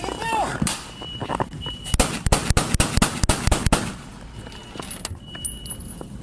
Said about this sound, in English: Without warning, gunfire erupted.